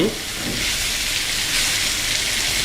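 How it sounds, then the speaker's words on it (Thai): Catfish pieces stir-fried in a hot pan for a spicy Thai curry stir-fry with stink beans, giving a steady loud hissing sizzle throughout with no talking. "ผัดให้เนื้อปลาดุกเป็นสี"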